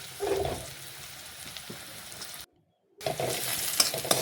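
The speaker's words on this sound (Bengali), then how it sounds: "তাহলে তাড়াতাড়ি পেঁয়াজটা লাল লাল ভাজা হয়ে যাবে" Onions fry in a pan over a raised gas flame, giving a steady close sizzle with crackles and faint stirring. A brief silent gap falls midway before the frying noise returns.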